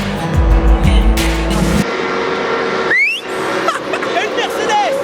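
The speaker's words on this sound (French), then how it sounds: "C'était une Mercedes." A Mercedes car roars past at 2020 winter testing, a loud close burst lasting under two seconds, then fades into quieter trackside ambience with whistles and people talking.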